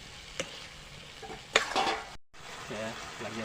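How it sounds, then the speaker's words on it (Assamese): Sonali chicken meat with potatoes frying in a pan, a close, moderate sizzle with a couple of sharp utensil scrapes and clinks, briefly cut to silence midway. "এতিয়া মই বহুত সময় ভাজিম"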